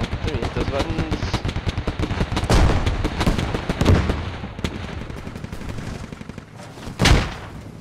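Rapid bursts of 30mm cannon fire from an APC in the military shooter Squad, loud and close, with a heavier blast near the end and a voice talking over the gunfire.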